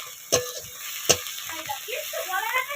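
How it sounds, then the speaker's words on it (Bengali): Onion paste, Kashmiri chili powder and sugar frying in oil, a soft steady sizzle with two sharp clicks of a utensil on the pan early on, followed by gentle stirring scrapes. "তেলে পেঁয়াজ বাটা আর একটু কাশ্মীর গুঁড়ো লঙ্কা অল্প একটু চিনি দিয়েছি আর মশলাটা ভালো করে কষিয়ে নেব"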